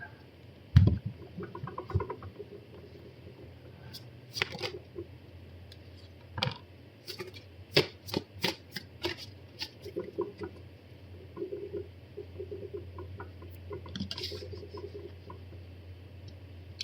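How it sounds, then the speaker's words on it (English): Tarot cards are slipped back into the deck and shuffled, making soft close papery taps and riffling flicks in scattered bursts over a quiet room, with no speech. "let's put these back in the deck and pull some more cards"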